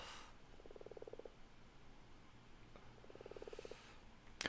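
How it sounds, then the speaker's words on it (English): Frogs in the video game Minecraft give two short bursts of rapid, rattling croaks a couple of seconds apart, faint and close against quiet ambient background. "All I hear is frogs."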